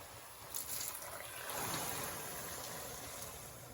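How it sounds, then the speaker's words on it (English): Hot boiled water, seven cups, is poured into a pot of rice for mutton pilau, a steady, soft rushing splash that swells midway and then holds, quiet and alone. "I'm going to add in 7 cups of hot boiled water."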